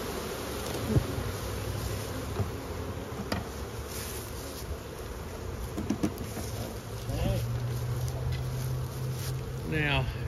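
Honey bees in an open spring hive during a deep inspection hum in a dense, close swarm, with scattered louder buzzes of single bees passing near and occasional handling clicks.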